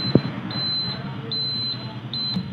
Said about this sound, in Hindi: इंडिकेटर के साथ अब आपको साउंड भी मिलता है,